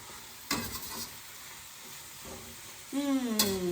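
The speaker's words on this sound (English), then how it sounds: "Give it a quick stir." A spoon gives a quick stir to a spinach and feta filling for Greek spanakopita in a pan, with steady soft sizzling, a few scraping strokes and a brief clatter near the end, close by without speech.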